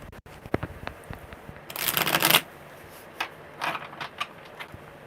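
Tarot deck being shuffled: a few soft card taps, then one quick riffling burst of cards, followed by several lighter slides and flicks, close and fairly quiet.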